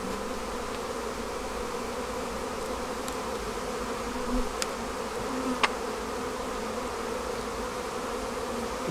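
Steady, droning buzz of many honeybees around a busy hive close by, with a few brief sharper zips of individual bees flying past.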